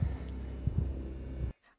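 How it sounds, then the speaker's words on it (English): A slow, muffled heartbeat from the video game SOMA, with several dull low thumps spaced under a steady hum, then a sudden cut to near silence. "All right, the heartbeat's happening."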